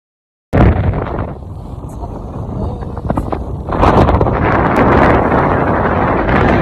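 A boat under way heading between reefs, heavy wind buffeting the microphone in a loud steady rush with engine and water noise beneath, growing stronger partway through.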